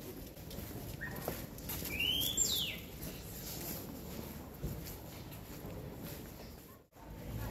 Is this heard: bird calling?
yes